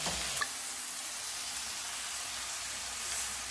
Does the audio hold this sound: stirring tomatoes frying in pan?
yes